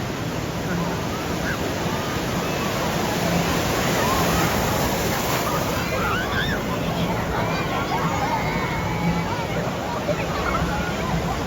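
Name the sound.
wave pool waves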